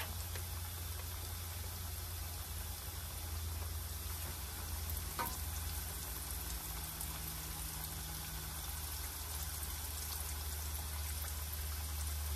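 Chicken frying in plenty of oil, pieces fully submerged, gives a steady, even sizzle that runs without a break, with a faint clink partway through and no talking.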